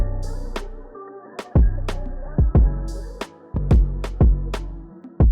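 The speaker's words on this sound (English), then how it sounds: "I laid the first rim with another one to make it sound a bit thicker." Sharp, thick rimshot hits snap over a looping beat with booming bass, landing in a steady, punchy rhythm.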